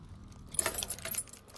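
A bunch of metal keys jangles in a brief, close rattling burst that builds in the middle and fades, with no talk over it.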